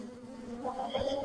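Honey bees buzz steadily around and beneath hive supers at the last super removal of a honey harvest, a continuous droning swarm sound that grows slightly louder toward the end, with no voices.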